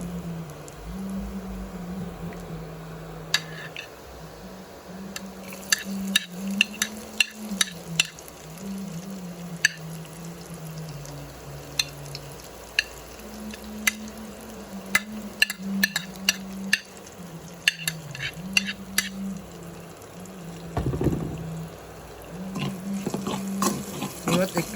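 Garlic fries in oil in a pan with a steady low sizzle, punctuated by scattered spoon taps and scrapes against the metal, alongside a continuous hum.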